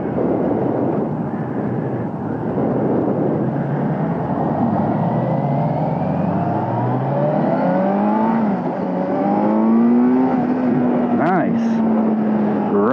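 A 2022 Kawasaki Z900 motorcycle accelerates hard to 60 in second gear, its engine note rising steadily in pitch over a constant rush of wind, loud and close throughout.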